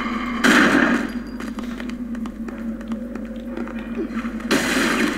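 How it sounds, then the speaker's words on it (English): Gunfire from the BloodRayne video game, a rifle firing at a werewolf enemy: a burst of sharp, clanging shots and metallic impacts opening the scene, a rattling stretch of smaller hits, then another loud shot at the end. "he's shooting at that werevire"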